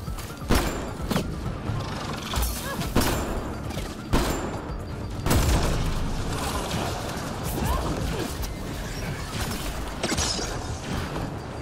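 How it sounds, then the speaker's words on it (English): Weapon fire and impacts in the sci-fi shooter Mass Effect Andromeda: sharp bursts and crashing blasts at irregular intervals over a constant rumbling, clattering battle bed, loud and close throughout. "I'm a firing my laser!"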